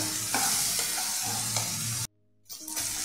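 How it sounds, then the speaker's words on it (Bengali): Masala sizzling and frying in a pan while being stirred with ground poppy seed paste for an aair fish curry, with steady scraping strokes that stop abruptly into near silence before the sizzle resumes. "ওই পোস্তটা দিয়ে এটাকে আর একটু কষিয়ে নেব"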